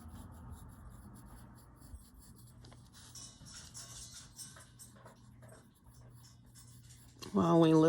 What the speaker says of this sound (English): I'm going to take my pencil right up here underneath this R line, and I'm going to shade that.